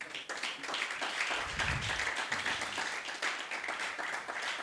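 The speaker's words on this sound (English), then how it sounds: "If you want to clap for making Nigeria, can you make it a bit louder?" An audience at the Make in Nigeria 2024 grand finale claps steadily, a dense patter of applause heard at a moderate distance, continuous and fairly even in level.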